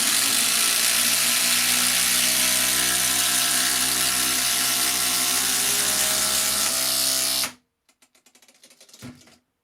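Makita impact drivers, a 40V and an 18V model, drive 125 mm screws with a loud, rapid hammering rattle that runs steadily for about seven and a half seconds, then cuts off, leaving a few faint clicks and knocks.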